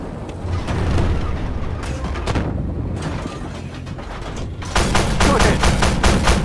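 Tank cannon and gunfire in the video game Armored Warfare, a dense barrage of shots and booms that builds into a rapid, loud rhythmic volley near the end.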